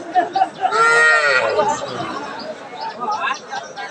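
A white cow gives one long, loud moo nearby at a cattle market in Aftabganj, Dinajpur, with people chattering in the background before and after.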